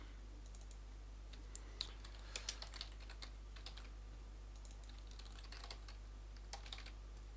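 Scattered keystrokes on a computer keyboard tap out short words in quick irregular bursts, faint and close over a steady low electrical hum in a quiet room, with no talking.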